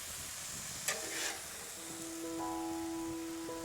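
Steak for Philly cheesesteak cooks on a Blackstone griddle, a soft, steady sizzle running throughout, broken by a couple of brief metallic clicks and faint tonal ringing partway through.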